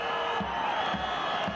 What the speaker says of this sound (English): Maybe he was joining in the sarcastic applause.